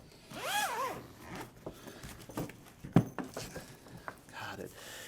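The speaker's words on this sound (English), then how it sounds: "These are the YKK zippers, which are really kind of the industry standard as far as high-end zippers go." YKK zippers on a Marcus Bonna compact tenor trombone case being pulled open in several quick, raspy zipping runs, close and fairly loud.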